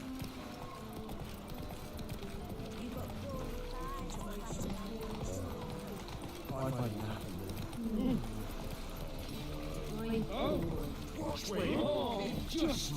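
Roach the horse's hooves clip-clopping in a steady gait in the video game The Witcher 3, mixed under game music while a person talks over it.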